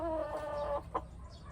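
Backyard game chickens on a muddy farm, clucking close by: a sustained tonal cluck followed by a short sharp call, with no talk.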